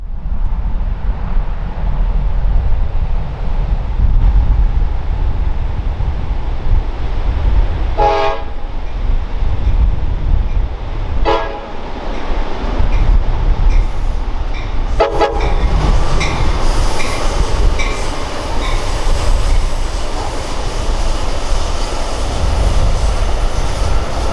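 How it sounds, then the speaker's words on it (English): An Amtrak passenger train rumbles past loud and close, led by a cab car with a Siemens Charger locomotive pushing at the rear, a steady heavy roar with several short horn blasts partway through, and no voices. "A cab car led the train north today with a Siemens Charger providing power on the rear."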